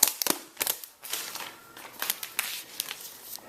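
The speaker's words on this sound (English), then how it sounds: "Let's go ahead and unwrap it." Crinkly plastic and packaging are torn and rustled while an ASUS Transformer keyboard is unwrapped, close-up in irregular sharp bursts, with no talking.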